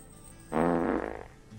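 Placeholder fart sound for a noise item in the Darkwood video game: one loud, close, sputtering fart lasting under a second, trailing off in a rapid flutter.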